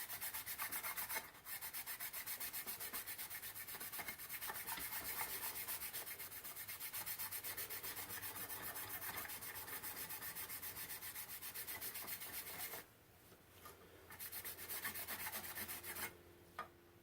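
Aluminum on a 1947 Scott 800B radio phono console being polished with Simichrome, a steady close rhythmic rubbing that runs almost continuously and pauses briefly near the end.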